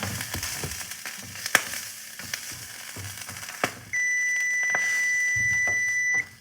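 A kitchen timer rings with a continuous high-pitched electronic beep for about two seconds over faint clattering and crackling from a grilled cheese sandwich cooking on the stovetop.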